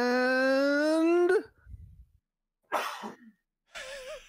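A strained vocal whine gives way to a raspy cough, then after a pause two more rough, throaty coughing bursts, close and fairly quiet, from the game Tetra Trackers.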